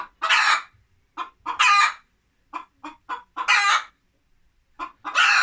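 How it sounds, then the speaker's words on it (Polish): A hen clucks and squawks in short, irregular bursts, close by, with quiet pauses between the calls, in a farmyard where guinea fowl also lay eggs. "tu kurka gdacze"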